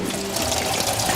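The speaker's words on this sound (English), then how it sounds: "Pour the water out." Water from a skillet of boiled potatoes pours steadily out through a slot left by a tilted plate, a continuous close splashing stream for a brief moment.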